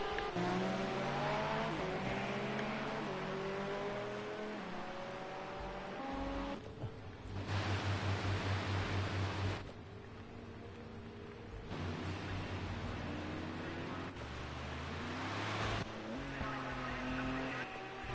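Race cars, including GT3 machines, at an endurance championship pre-season session rev hard and accelerate out of the last corner, engine notes rising and falling in repeated loud passes while a commentator talks over them.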